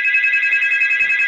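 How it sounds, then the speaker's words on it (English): A phone rings partway through a UFC betting breakdown, giving off a loud, steady electronic trill that pulses rapidly and holds one shrill tone throughout, heard alone. "I apologize about the phone call in the middle of this video."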